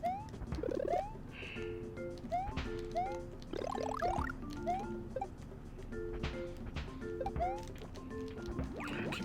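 Mario Maker game sounds as the character keeps falling into water: a busy run of chirpy rising blips, splashes and bouncy effects at moderate level, with game music tones underneath.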